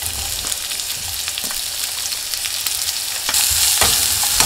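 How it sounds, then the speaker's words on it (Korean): Onions stir-fry in oil and sesame oil for Korean potato soup, giving a dense, close hiss and crackle with soft stirring scrapes that grow a little louder near the end, and no talking. "양파부터 볶아주세요."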